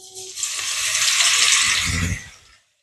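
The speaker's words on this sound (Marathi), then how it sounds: "तेल गरम झालं की मग आपण त्याच्यामध्ये मिरची टाकून घेणार आहे तळण्यासाठी" Chillies crackle and sizzle in hot oil for a vegetable dish, a loud, broad hiss that swells in and holds steady, with a low clatter near the end before it cuts off abruptly.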